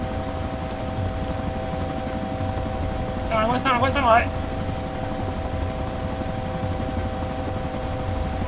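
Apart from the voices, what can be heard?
helicopter flying in video game DayZ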